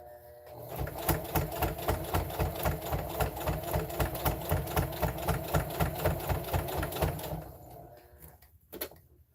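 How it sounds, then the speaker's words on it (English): A sewing machine back stitching fabric for a reversible mug rug made from fat quarters, a steady rapid run of needle strokes for several seconds before slowing and stopping, close and clear. "And I'm going to back stitch at the beginning."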